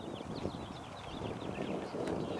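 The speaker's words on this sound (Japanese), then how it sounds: "かなり風が吹いてきました。" Strong wind gusting across a hilly golf course beside a par-3 hole over a valley, a steady broadband roar with mic buffeting and faint bird-like chirps above it, no talking.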